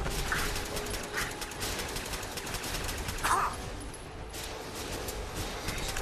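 Bursts of rapid synthetic gunfire crackle through a busy Fallout 4 battle soundscape, with a few sharper impacts standing out amid the steady din.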